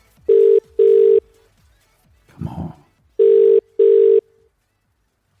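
A telephone rings in two double bursts separated by a short pause, loud and close, with a brief spoken word in between.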